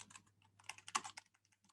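Typing on a computer keyboard while entering a web search, a quick run of close, light key clicks with uneven rhythm and brief pauses, no voices.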